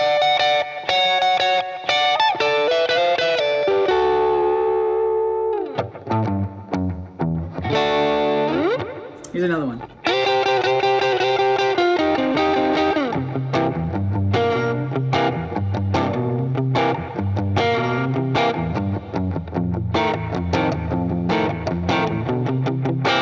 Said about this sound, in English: all you're going to need is a crunchy overdrive, a slapback delay, sounds like this. It's just fast repeats, and some reverb